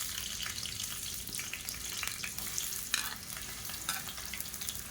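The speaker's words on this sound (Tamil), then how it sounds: "எண்ணெய் சூடானதும் மீடியம் சைஸாக 2 பெரிய வெங்காயம் நீளமாக நறுக்குனதை சேர்த்துக்கலாம்." Long-sliced onions fry in oil and ghee in a pressure cooker, a soft, constant sizzle with occasional stirring scrapes, fairly quiet and with no voices.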